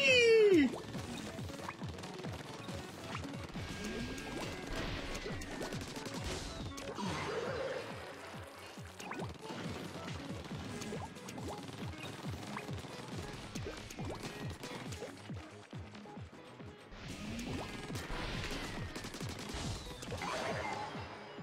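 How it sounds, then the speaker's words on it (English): Shots splatter and smash against a boss's hands and incoming missiles in Splatoon, a long stretch of repeated crunching impacts and sprayed firing over game sound, fairly quiet and without talk. "Watch out for the missiles, and then, of course, shoot the hands."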